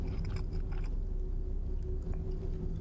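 Munching on pizza in the horror game Fears to Fathom: close, wet chewing and biting in a steady rhythm over a low background hum, fairly quiet, with no speech.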